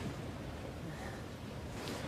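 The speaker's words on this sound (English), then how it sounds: "Got a bit of waterfall coming down here at the moment." Small waterfall running down a rocky mountain gully: a faint, steady rush of falling water that stays even throughout, with no voices.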